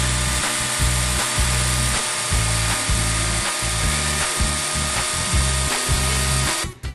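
An electric chainsaw with a chain oiling fault runs loud and close, surging in a steady series of short pulses and cutting off at the end.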